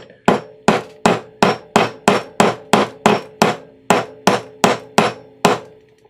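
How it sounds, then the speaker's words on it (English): Fourteen sharp, evenly spaced hammer strikes ring out close and loud, each a bright metallic tap with short decay, as a copper rivet and burr are set into leather. "So with our copper rivet and burr, we'll gently seat"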